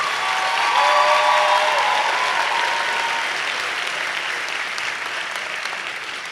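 Loud, dense audience applause at the Lehman College Honors Convocation 2017, a sustained wash of clapping that eases slightly toward the end.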